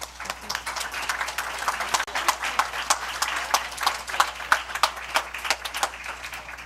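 At a Board of Education meeting, people in the room applaud for teachers with a burst of clapping that swells and fluctuates, individual sharp claps popping out of the lively, close, many-handed patter.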